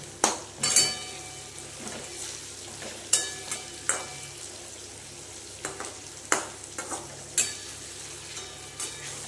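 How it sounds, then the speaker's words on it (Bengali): Pointed gourd (patol) being stir-fried with chopped tomato and spices in a pan, with a steady sizzle under repeated sharp scrapes and clinks of a spatula against the pan, close and fairly loud. "এবার পটলগুলো দিয়ে কষে নেব।"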